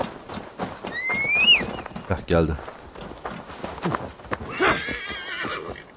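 A horse in Assassin's Creed Valhalla gives a loud, close whinny, then hooves clop and gallop in, with a second neigh later, while someone talks over the sounds.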